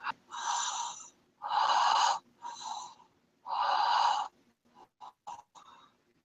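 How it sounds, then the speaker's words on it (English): A person breathing in and out in a slow, natural rhythm: four long, audible breaths of roughly a second each, then several short, quieter breaths, close to the microphone with no talking. "we're just going to breathe in and out in a nice, natural rhythm"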